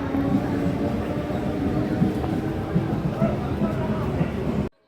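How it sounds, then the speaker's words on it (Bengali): A steady loud rumble of a Katwa local train departing Nabadwip Dham station fills the clip, constant and close, before cutting off abruptly. "এই হচ্ছে ট্রেন বেরিয়ে গেল কাটোয়া লোকাল"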